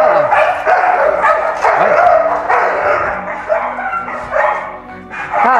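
Pit bull and bull terrier dogs bark and yip loudly in rapid, overlapping bursts throughout, with someone speaking Portuguese briefly over the din.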